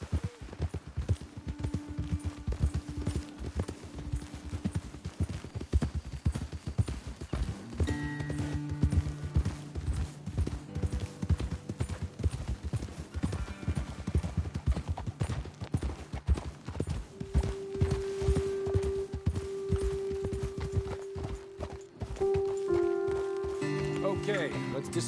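Horses' hooves clip-clop steadily in Red Dead Redemption 2, several mounts riding together along a trail, their hoofbeats close and clear beneath game music and intermittent talk.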